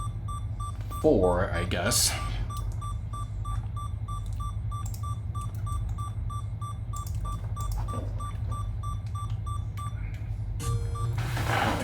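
Low-health warning beeps from the NES game The Legend of Zelda, a regular repeating electronic pip running steadily under a man's speech and other game sound effects.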